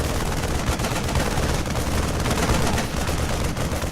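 Sustained rapid gunfire from a StarCraft 2 Marine attacking in the video game, a dense, continuous rattle of shots at steady loudness throughout with no speech.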